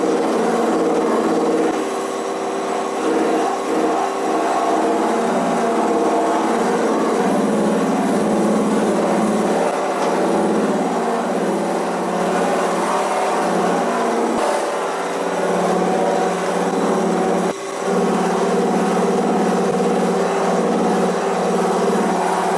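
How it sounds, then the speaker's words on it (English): Power sander working a guitar's lacquer finish, a loud, steady buzzing drone that runs without pause throughout, with no one talking. "where I need to sand to get rid of the imperfections"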